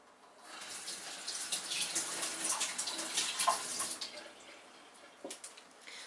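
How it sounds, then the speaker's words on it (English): Hands being rinsed under a running tap, a close, steady hiss of water that swells in after a quiet start, continues, then tapers off with a couple of short splashes near the end. "I will first rinse my hands"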